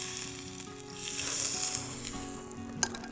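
Alligator meat coated in oil sizzles on a grill over an open fire. A close, bright, continuous frying hiss is broken by a sharp pop near the end.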